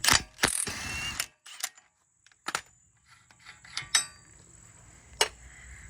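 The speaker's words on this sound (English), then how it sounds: "Now we're going to need to remove the axle nut." A hand ratchet works on the axle nut of a 2003 Toyota Camry during strut replacement, heard as scattered close metallic clicks and creaks separated by quiet gaps.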